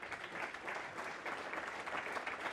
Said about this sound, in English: Can we please have a round of applause for the ECB?